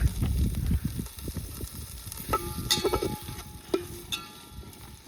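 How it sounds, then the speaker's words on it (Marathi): Pieces of jatra-fair mutton fry in hot oil for a Kolhapuri mutton curry, a steady close sizzle with scattered stirring clatters and a few sharp metallic clinks, no talk. "आता तेल टाकून तेलात घ्यायचा चांगला तळून."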